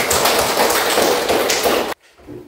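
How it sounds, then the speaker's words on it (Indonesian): Classroom applause from high school students for a presenting group in a civics class, a dense burst of clapping that stops abruptly near the end, followed by quiet room noise. "Kita beri aplaus sekali lagi"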